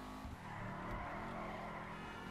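A Dewbauchee Seven-70 slides through a drift in GTA 5 Online, giving a dense, continuous roar of engine and tyre noise at fairly low volume.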